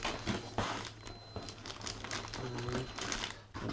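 A Fellowes Starlet 2 personal comb binder is unpacked from its cardboard box, with close, continuous crinkling and rustling of packaging and cardboard and a few brief knocks.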